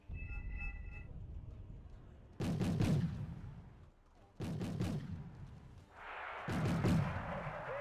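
Mortar fire in the war strategy game Wargame Red Dragon: three loud, sharp bursts a couple of seconds apart, each with a booming low tail, over a constant low battlefield rumble.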